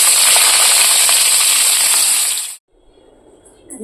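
Potatoes dropped into hot oil with turmeric give a loud, steady hiss and crackle for a couple of seconds, then go abruptly quiet, leaving only faint low sizzling.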